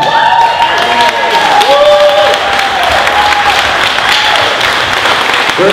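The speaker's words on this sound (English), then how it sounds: "How about a standing ovation for O'Neill?" A large audience at the 2017 Corvette Dream Giveaway award ceremony claps in a loud, dense standing ovation, with cheers rising over steady applause that fills the whole stretch.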